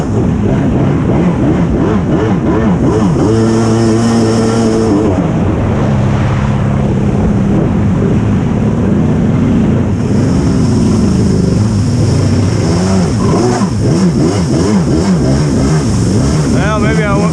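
A jet ski engine running too rich revs up and down close by, its loud uneven drone rising and falling throughout.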